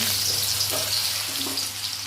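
A bay leaf, dried chilli and panch phoron sizzle and crackle in hot oil in a pan, a close, steady frying hiss with a low background hum and no talk.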